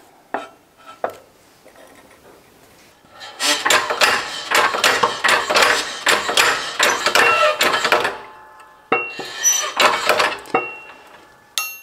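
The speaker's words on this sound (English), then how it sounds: "we're gonna press out the bushing because they're no good." A worn bushing is pressed out of a Ford Model A distributor, giving a couple of sharp taps, then a long burst of rapid metallic knocking and clicking, a pause, and another shorter burst, close and clear.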